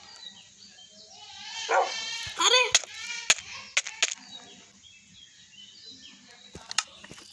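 A dog in the Minecraft survival game barks several times in quick, sharp yelps, loud and close, followed by scattered game clicks and thuds.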